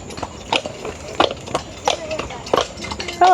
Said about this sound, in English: We've got two horses crossing each other.